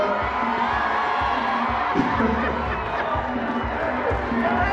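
A packed hall audience at a Miss Congo France pageant cheers, whoops and chatters for the contestants, a steady dense crowd roar with scattered shouts and laughter throughout.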